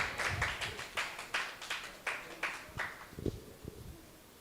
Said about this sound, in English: On this side, lots of claps